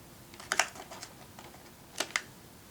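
Steel snips trim excess soldered lead wire on a Cerwin Vega ATW15 woofer speaker cone during a recone: two pairs of quick, sharp clicks close up, separated by about a second and a half of quiet.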